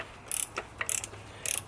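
A torque wrench tightens bolts on a VW TDI oil cooler housing, giving quick bursts of close ratcheting clicks in short irregular runs over quiet background noise.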